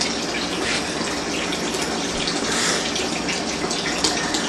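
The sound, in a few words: clean stream water running into a pond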